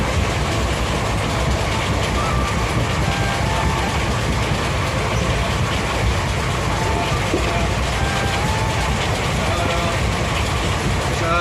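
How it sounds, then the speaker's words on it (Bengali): A passenger train runs on rails toward Medinipur station, giving a continuous loud rumble with faint rhythmic clatter of wheels from inside the carriage, steady throughout. "তো চলো এখন ট্রেনে করে যাই আস্তে আস্তে"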